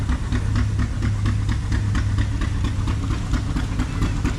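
An antique Eclipse engine runs at a thresherman's show, a loud, close, low chugging with steady rapid knocking pulses and a rhythmic beat, with no other sounds over it.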